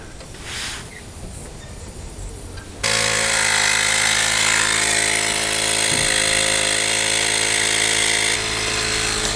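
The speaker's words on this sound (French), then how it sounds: "on va enfoncer la mèche hein, la première fois" Power drill driving a bit into a hole in a used car, a loud, continuous whine that starts abruptly after a quiet stretch and runs steadily until it eases off near the end.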